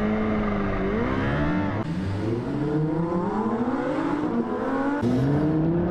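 A supercar engine climbs through hard acceleration in a race, its tone rising and shifting through gears, loud, steady and close with a whirring edge and no voices.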